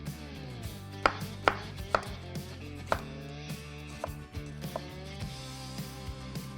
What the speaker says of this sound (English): Let's move on to the onion. We clean it and then chop it up.